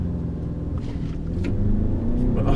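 A 2015 Lincoln MKC Black Label compact luxury crossover with a 2.3-liter EcoBoost engine and front-wheel drive cruises along, its low engine and road rumble steady and close, rising slightly toward the end.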